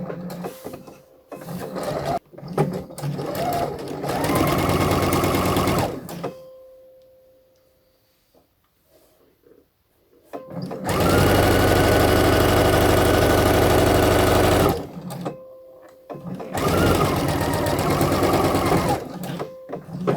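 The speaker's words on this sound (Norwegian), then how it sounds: "Og så sy ermesømmene i hver sin retning." A domestic sewing machine stitches blouse sleeve seams in three long loud bursts of steady, fast mechanical whirring, separated by quiet pauses with small handling clicks.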